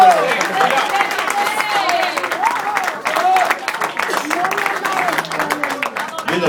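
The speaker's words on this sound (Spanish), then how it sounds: "Dale un aplauso al Señor en esta tarde." Church congregation claps during a Spanish-language service, a continuous round of applause with voices and a singing or speaking leader audible over it.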